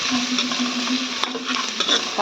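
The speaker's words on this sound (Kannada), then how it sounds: "ಇವಾಗ ನೋಡಿ ನಾನು ಉಪ್ಪು ಹಾಕ್ಕೊಂಡಿದ್ದೇನೆ ಚೆನ್ನಾಗಿ ಫ್ರೈ ಮಾಡ್ಕೋಬೇಕು ಇದನ್ನು" Food with salt is stirred and fried in a pan: a steady hiss of frying runs beneath occasional scraping strokes of a spoon, close by, with a faint constant hum and no voices.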